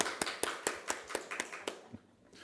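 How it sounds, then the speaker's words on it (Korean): A church congregation claps in thanks, with a series of sharp, evenly spaced broadband slaps over about two seconds, moderately close and fading out at the end. "감사와 영광의 박수 아버지께 올려드립니다"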